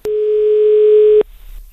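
A landline telephone gives a loud, steady single-pitch tone after the call is hung up, lasting about a second before cutting off abruptly into near silence.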